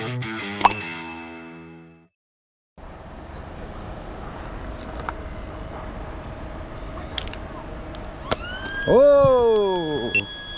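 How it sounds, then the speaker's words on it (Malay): A loud tonal burst, a pause, then steady ambient noise before a siren starts wailing, rising and falling close by near the end. "Siren dah bunyi."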